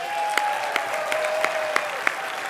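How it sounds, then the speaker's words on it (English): Diners at a human rights award gala applaud the kitchen staff, a dense, loud wash of clapping from a large room, with a faint sustained tone running beneath. "why we don't give them a round of applause?"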